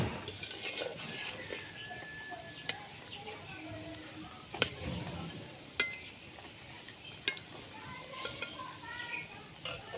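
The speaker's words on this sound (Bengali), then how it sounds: "পকোড়াগুলা অল্প আঁচে ভাজতে হইব" Chicken pakoras frying slowly in oil over low heat, a soft, quiet bubbling sizzle with occasional clinks of a utensil against the pan, heard close and fairly faint without any talk.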